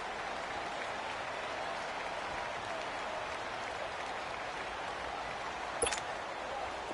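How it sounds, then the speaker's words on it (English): Simulated stadium crowd in a PS4 football video game cheers in a steady, broad roar before a big third down, with one brief sharp accent near the end. "the crowd getting into it as we come up on a big third down"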